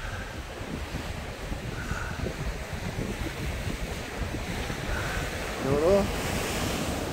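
Sea waves rolling onto the Yeongdeok coast in strong wind, a continuous washing surf with steady gusty wind noise buffeting the microphone, and a brief voice near the end.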